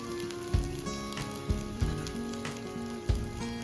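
Sizzling oil in a pan while cooking matar paneer curry, a steady crackle with a few louder spits and pops scattered through it, close and fairly quiet, with no one speaking.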